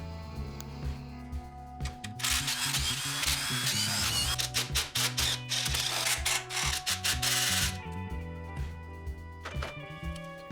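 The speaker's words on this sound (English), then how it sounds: "There are 11 8mm bolts to loosen." Ratcheting and loosening of 8mm valve cover bolts on a Mustang engine, in a long, dense burst of rapid mechanical clicking and whirring between quieter pauses, close up with no talk.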